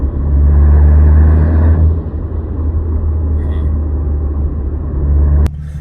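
A Chevrolet G8 driving with chatter and vibration after a PTB clutch install, a loud low engine and drivetrain rumble that swells then eases, with a voice talking over it.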